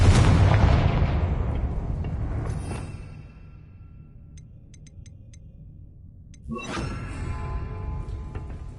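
Spell explosions from Confringo cast in Hogwarts Legacy on PS5: a loud, booming blast that rumbles and fades over a few seconds, then a second sharp burst erupts and rolls on.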